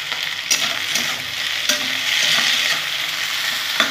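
Potatoes with salt and turmeric sizzle steadily in a pan while a utensil stirs and scrapes them in irregular clicks, close and fairly loud, with no voices.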